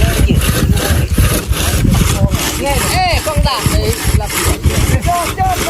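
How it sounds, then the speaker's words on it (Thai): A hand saw rasps through a wooden post in quick, rhythmic back-and-forth strokes during bridge building, loud and close, with faint voices underneath. "เลื่อยนี่ก็ใส่แบบสมัยเก่าสมัยก่อนเลยพี่น้อง"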